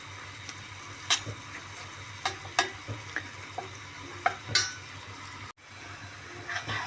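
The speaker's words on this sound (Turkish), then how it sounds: "Bunu sararıncaya kadar böyle karıştırıyoruz arkadaşlar" Onion, flour and vermicelli being stirred and toasted in a pan, a low soft sizzle under scattered scraping clicks and knocks of a utensil against the pan, with a brief drop near the end.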